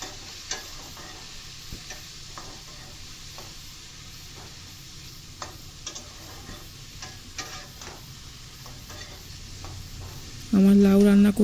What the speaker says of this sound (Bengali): লাউগুলোকে ভালো করে নেড়ে নিচ্ছি।